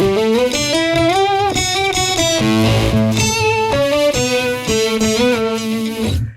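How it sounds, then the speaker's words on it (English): A distorted, buzzy electric guitar played as a synth-like lead plays a fast melodic line with gliding note changes, loud and sustained throughout. "there's a couple of these synth sounds that I reach for a lot. So one of them is the synth lead"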